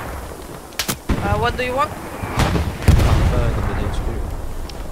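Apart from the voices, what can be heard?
heavy gunfire and explosions in video game Hell Let Loose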